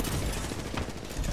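A Kraber sniper rifle fires in a video game amid continuous loud battle noise, with dense gunfire and rumble filling the whole short stretch.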